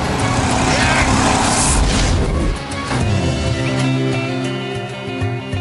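Jaguar XK convertible driven hard, a loud close engine roar that rises and falls with clear shifting engine tones, mixed with road and wind noise.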